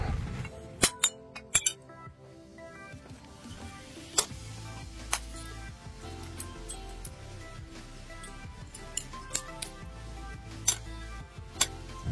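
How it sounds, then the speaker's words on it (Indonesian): Broken mirror glass being smashed into smaller pieces, producing repeated sharp cracks and clinks at irregular intervals, close up with tinkling fragments between hits. "Ini akan saya pecah terlebih dahulu. Jadi kita pecah supaya ukurannya menjadi lebih kecil."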